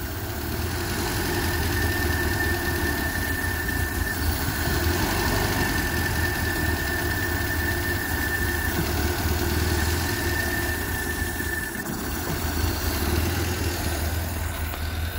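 A Vauxhall Viva HC engine idles steadily just after starting, a loud, close, continuous rumble with a faint steady whine above it and no talking.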